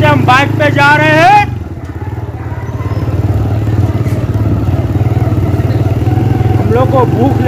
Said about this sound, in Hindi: आप देख सकते हैं हम बाइक पे जा रहे हैं